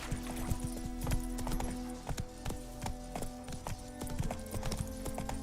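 Horse hooves in The Witcher 3 game, rapid rhythmic clip-clop of a galloping mount, close and steady, with a brief snort or whinny near the start.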